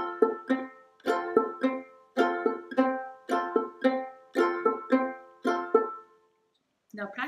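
A ukulele strummed quickly in a steady repeating clawhammer pattern of plucks and brushed strums, clear and close, ending with a brief pause.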